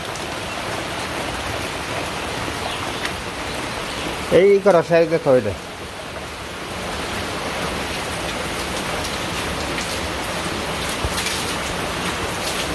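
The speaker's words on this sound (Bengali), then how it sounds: "আরে বৃষ্টি হইতেছে, এই বৃষ্টিটা বড়ি আছে" Steady, heavy rain falls outdoors with a dense, even hiss throughout; a person speaks briefly and close by partway through while the downpour continues underneath.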